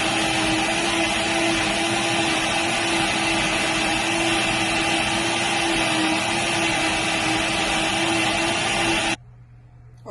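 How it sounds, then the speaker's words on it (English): A kitchen blender runs loud and steady for about nine seconds, whirring through ingredients in warm water, then cuts off abruptly, leaving quiet room tone. "now I'm going to go ahead and close the blender, and I'm going to blend it"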